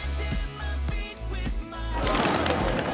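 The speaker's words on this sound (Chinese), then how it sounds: "鸽子，鸽子，鸽子，我就在跟着" Pigeons cooing close by outdoors, several soft low rounded coos repeating in a loose rhythm, followed by a burst of louder broadband noise near the end.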